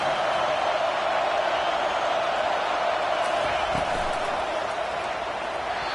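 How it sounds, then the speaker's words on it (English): A stadium crowd at an American football game roars in a loud, sustained wash of noise, cheering on the home defense, with no pause throughout. "Listen to this crowd just shaking the girders of this place trying to help their defense."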